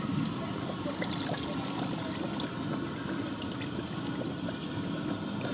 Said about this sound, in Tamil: இப்போ தண்ணியெல்லாம் வடிச்சிட்டு அரிசியை மட்டும் சேர்த்துக்கலாம்.